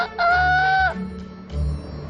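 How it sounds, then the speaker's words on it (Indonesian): A single rooster crow, loud and close, followed by a short, lower call. "ayam-ayam itu berkokok lagi membangunkan hewan-hewan di peternakan"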